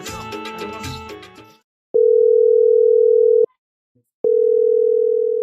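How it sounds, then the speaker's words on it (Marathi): An unanswered phone call gives two long, loud steady ringback tones separated by a silent gap, after a burst of music at the start. "फोन नाही उचली रे तो"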